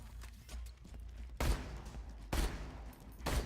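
Bursts of gunfire from the video game Borderlands 2, three sharp volleys spaced about a second apart over faint background game sound.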